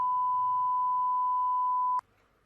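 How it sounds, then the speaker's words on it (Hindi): Multimeter continuity beep while testing a geyser sensor's wires: one steady, clean high tone held for two seconds, then cut off abruptly with a small click, leaving quiet hum. "ये दोनों वायर्स आपस में कनेक्ट हैं और मीटर बीप की आवाज़ शो कर रहा है"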